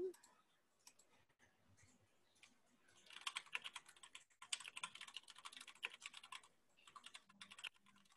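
Keyboard typing from someone entering a paper link into an online chat, a quiet run of irregular key clicks that grows busier and denser toward the end, with no talking over it.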